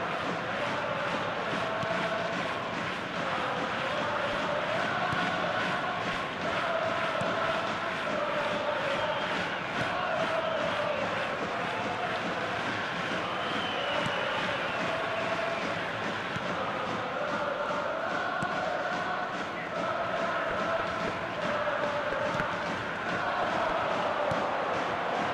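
A stadium crowd in the eFootball PES23 video game keeps up a steady, even roar for the whole stretch, with swelling chants and murmurs and no single voice standing out.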